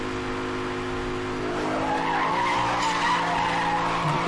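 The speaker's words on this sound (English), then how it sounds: "Get the big drift going." A police Aston Martin drifts in Need for Speed Hot Pursuit Remastered, its tires squealing in a long, loud, sustained skid over a steady engine drone that swells slightly toward the end.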